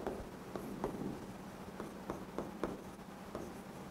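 A marker or pen writes on a board in a quiet room, producing faint intermittent scratchy strokes with short pauses between them.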